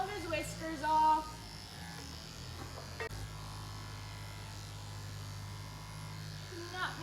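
Electric clippers buzz steadily close by as whiskers are shaved off a show steer, with a brief louder burst near the start and faint background voices.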